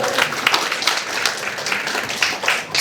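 An audience claps together at a lecture on starting a business, a steady broadband patter of many hands lasting the whole moment, moderately loud, with no talk over it.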